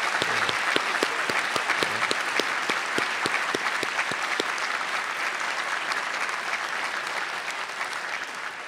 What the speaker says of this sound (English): parents, Mr. Robert and Mrs. Joanne Bennett, I think they deserve a separate applause